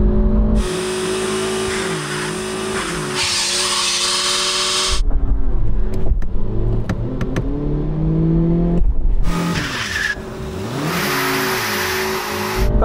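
BMW and Audi cars are driven hard, with loud, close engine roars that rise and fall through repeated revving and acceleration bursts, separated by a brief rougher stretch of engine noise.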